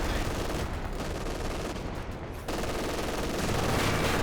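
Machine-gun fire from a Company of Heroes 2 3v3 battle at a station, a dense, steady rattle of gunfire that holds loud throughout amid the general din of combat.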